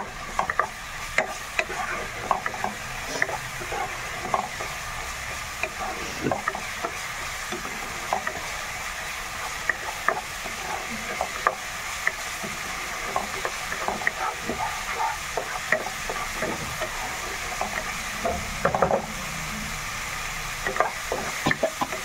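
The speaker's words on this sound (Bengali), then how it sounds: "এবারে এসব ভাজা করে নেবো সব মশলা।" Ground spices sizzling in a pan as they fry for chicken pasta, a constant crackling hiss broken by repeated scraping clicks of a stirring spoon, steady and close throughout.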